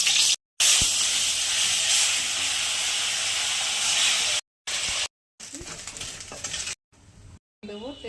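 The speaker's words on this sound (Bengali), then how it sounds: "মাছগুলো ভেজে নেব।" Tilapia pieces frying in hot oil, a loud dense hiss and crackle that runs steadily with brief cuts of silence, then turns quieter and patchier toward the end.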